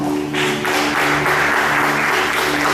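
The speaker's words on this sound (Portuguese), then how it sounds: "aplaudam a Deus por essa palavra" A church congregation claps together during a worship service, steady applause filling the room over a low sustained musical drone, loud and close throughout.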